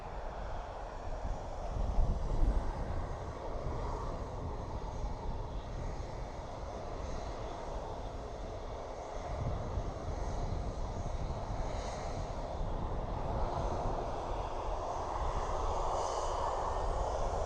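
A KLM airliner at Dublin Airport, its engine noise a steady broad rumble with wind buffeting the microphone, moderately distant and continuous throughout, with no talking.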